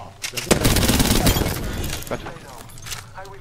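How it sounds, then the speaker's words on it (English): Enemy players fire in a shooter video game, with rapid bursts and single loud shots clustered early, then fading into scattered fire as voices talk over it. "No, they're shooting at us."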